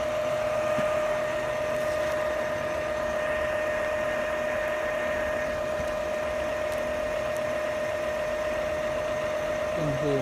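An Epson L-series inkjet printer hums steadily during a print head power cleaning cycle, with a constant whine and a faint rattling mechanical churn, running without pause.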